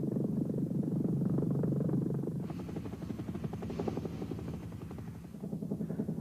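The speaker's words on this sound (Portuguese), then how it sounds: "Com os motores em funcionamento, este Tiger, em poucos minutos, estará pronto para voltar à ação." Eurocopter Tiger attack helicopter sitting with engines running, a loud steady turbine whine over a fast rhythmic rotor thump, close and continuous.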